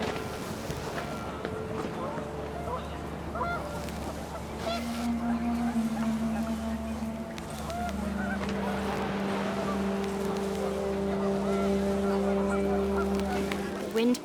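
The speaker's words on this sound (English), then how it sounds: "The wind picked up, and panicked geese appeared and quickly went." Panicked geese honk in the video game What Remains of Edith Finch, a cluster of brief honks over a steady droning backdrop of wind and sustained tones.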